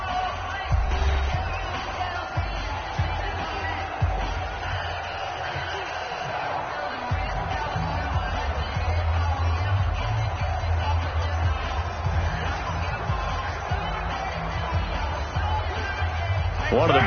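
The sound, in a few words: stadium crowd cheering in the video game Madden NFL 20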